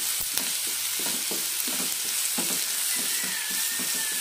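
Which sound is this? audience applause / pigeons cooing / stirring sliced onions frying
stirring sliced onions frying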